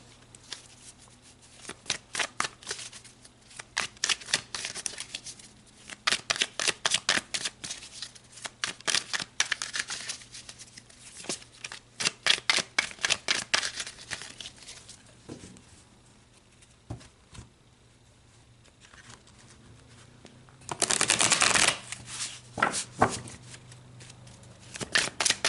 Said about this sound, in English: All right, let's pull some tarot.